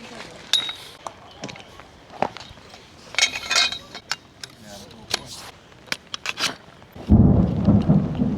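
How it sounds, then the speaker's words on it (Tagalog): Rain at a motorcycle campsite in La Trinidad, Benguet grows heavy, ending in a loud steady downpour, preceded by sharp clattering knocks of camping gear and pans being handled nearby; no clear thunder rumble stands out. "Lumalakas yung ulan."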